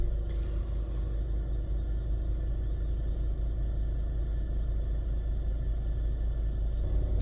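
Low, even engine rumble of an idling Kia Sorento diesel with an SCR NOx catalyst fault, steady and unchanging, heard from inside with no talk.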